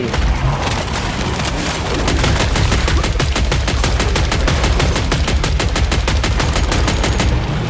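Automatic gunfire in the video game Killing Floor 3 rattles in long, rapid bursts, loud and close, with dense evenly spaced shots that sharpen toward the end.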